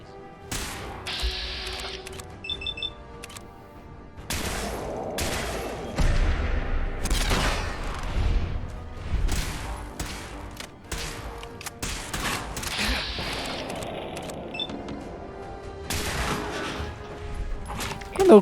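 Weapon fire in Fallout 4 (Far Harbor), coming as scattered bursts of sharp shots spread across the stretch, fairly loud with a busy game backdrop and no talk.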